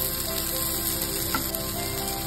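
Crabs fry in oil with a continuous close, even sizzle and bubbling, and one faint clink partway through.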